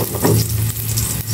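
Garlic sautés in hot oil in a pan, a loud close sizzle with scraping stirs and a low clattering hum underneath, no voices.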